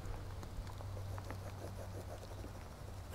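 Light rain patters steadily outdoors during plein air landscape sketching in Cornwall. The drops are faint and even, with a low background rumble and no voices.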